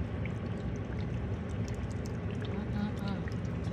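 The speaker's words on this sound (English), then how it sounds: "I've added about a cup of water to that lamb." Water pours steadily into a simmering pot of lamb curry, a continuous splashing gurgle at close range lasting the whole stretch.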